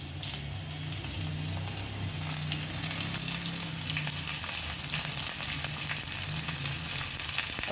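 Garlic and green chilli pieces sizzle in a tempering of hot oil, a dense, crackling fry that holds steady and close, with a low hum underneath throughout.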